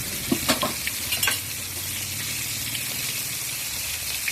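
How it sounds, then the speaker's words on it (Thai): Thai fermented fish (pla som) fries in a hot pan over medium heat, giving a steady, close sizzle with a few sharp pops and spatters near the start. "ก็วางปลาลงไปเลยจ้านี่ ปลาลงไปเลยทอดไปนะคะทุกคน"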